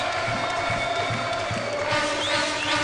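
Football supporters of Serrano cheer steadily in the Atílio Marotti stadium during a Série B1 semifinal, a continuous loud crowd roar with scattered whistles and shouts.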